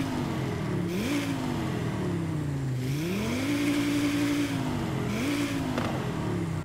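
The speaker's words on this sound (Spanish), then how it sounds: "vamos a escuchar este 5 cilindros turbo" Audi RS3 five-cylinder turbo engine in the racing game Forza Horizon 5 revs repeatedly, three rising blips climbing and falling back over a steady idle, loud and close with no talk.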